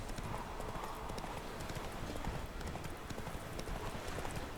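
Horse hooves clip-clop at a steady, rhythmic pace in the video game The Witcher 3: Wild Hunt, the hoofbeats clear and continuous over a soft ambient bed.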